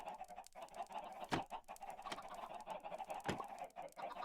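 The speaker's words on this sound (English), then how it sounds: "Be one with the chickens." Chickens clucking in the Minecraft video game, faint repeated clucks over a busy game background with a few sharp clicks, no voices.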